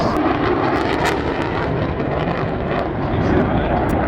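A Saab Viggen jet fighter with a Volvo RM8 turbofan flying at an airshow gives a loud, broad continuous engine roar that stays strong and steady throughout, with no clear voices over it.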